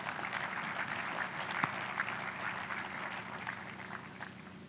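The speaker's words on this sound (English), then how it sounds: "a round of applause." Audience at an annual meeting luncheon clapping together, a steady dense patter of many hands that holds evenly and slowly fades, heard from a distance in a large room.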